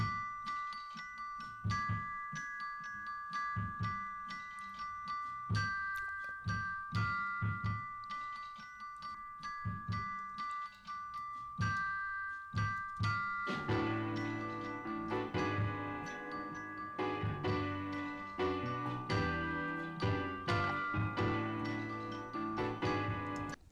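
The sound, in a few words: piano and bells playing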